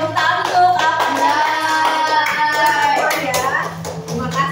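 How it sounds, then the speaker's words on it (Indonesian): Children in a classroom clap their hands during a basic coding lesson, giving a run of close, fairly rhythmic claps over several seconds, mixed with lively children's voices. "Oke, tepuk tangan untuk apa?"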